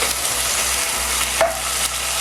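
Pork chine cooking over a low flame in a pan, with a dense, even sizzle and a brief stir or shift near the middle, close and fairly loud, without talk.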